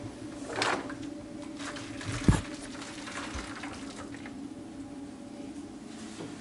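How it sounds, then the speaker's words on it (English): Tea poured into a shallow tray for toning a cyanotype print, a soft trickle with a brief louder splash, over a low steady background hum. "pour our tea into the tray"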